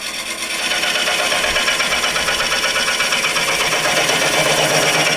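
A wood lathe spins a bowl blank under a turning tool, giving a loud, steady whirring drone with a rough buzzing texture that runs unbroken through the clip.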